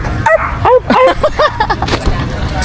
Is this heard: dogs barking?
yes